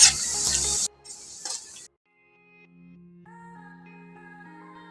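Crushed garlic and onion fry hard in a pan for a dal and kochur loti dish, giving a loud, close sizzle for about a second and a shorter burst after, then fading under soft background music.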